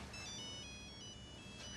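A telephone rings indoors at a home, a steady electronic ringtone repeating through the short moment at moderate volume with no talking over it.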